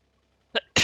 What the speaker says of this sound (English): And sneeze warning.